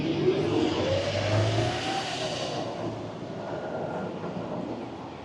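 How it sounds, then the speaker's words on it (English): A Kyoto city bus, route number 12, pulls in to a stop with a loud engine rumble and rising drone, the nearby roar easing off into steady street noise. "So this is the bus that we have to take, number 12 according to Google."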